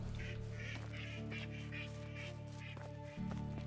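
Ducks quack in the video game Medieval Dynasty, a run of short repeated calls over a steady low in-game hum, with no talking.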